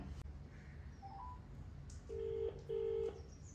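A short series of electronic telephone keypad tones, each beep clear and steady, punched in one after another over faint background hiss.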